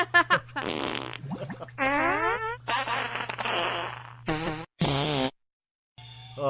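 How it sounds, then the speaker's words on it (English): A series of loud, close fart sounds, several drawn-out buzzing and sputtering blasts of varying length in quick succession over a low steady hum, with short gaps between them. "that's a Blake Shelton fart if ever I heard one"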